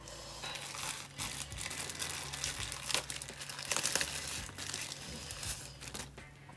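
Adhesive tape is peeled and crinkled off the inside of a Bambu Lab P1S 3D printer in a series of rustling, crackling pulls, close by and fairly steady.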